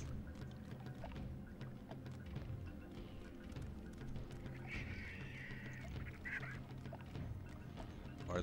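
Geese-like birds honking in the video game Shadow Man: 2econd Coming, a few faint calls over a low rumbling game ambience, no speech.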